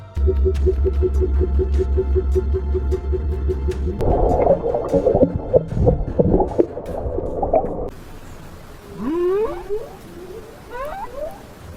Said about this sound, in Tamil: ஒவ்வொரு திமிங்கலமே தனித்துவமான சத்தத்தை வெளிப்படுத்தும்